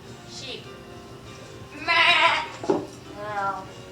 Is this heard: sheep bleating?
yes